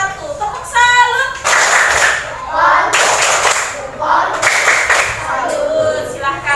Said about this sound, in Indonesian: Kita berikan tepuk salut untuk kelompok 1.